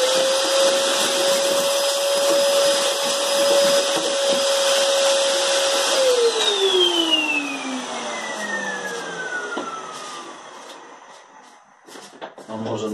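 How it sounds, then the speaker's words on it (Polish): A vacuum cleaner runs steadily at close range, sucking up drilling dust from a hole bored by a NITEO Tools 20V hammer drill, then winds down with a falling whine before briefly starting up again. "Ja tylko odkurzę tutaj, żebyśmy wiedzieli,"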